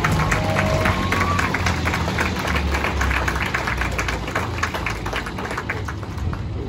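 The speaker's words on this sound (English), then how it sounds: "Let's give a round of applause for our victorious scouts" Audience applause and cheering at an outdoor US Army Combined Arms Maneuver demonstration, a steady broad wash of clapping from a sizable crowd with a low rumble underneath, sustained and gradually easing over several seconds.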